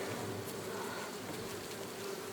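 A dense, steady hum of a honey bee swarm hanging on hive frames, close and continuous, with a faint droning pitch and no voices.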